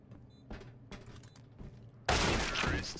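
Gunfire in CS:GO during a G2 Esports versus Astralis match on Nuke, a few scattered muffled shots followed by a loud, dense burst of rapid fire that continues to the end.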